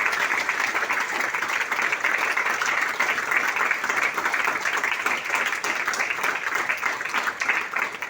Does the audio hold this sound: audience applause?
yes